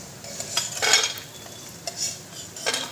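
Fried lentil dumplings (bori) being lifted out of a pan make a few light scraping and clinking spoon strokes against the metal, with faint sizzling in the background.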